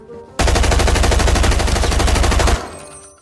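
Rapid automatic gunfire in a shooter video game, one continuous loud burst of evenly spaced shots lasting about two seconds that cuts off abruptly, with nothing else heard.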